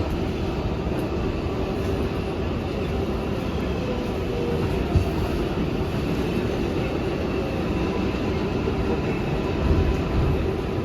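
An NYC subway R142A 6 train runs underground toward Brooklyn Bridge, a loud, continuous rumble and rail roar heard from inside the car, steady throughout with slight swells and no speech.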